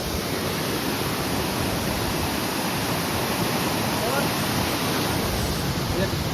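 A dense, steady roar of rushing water fills the air, loud and unbroken like a nearby waterfall.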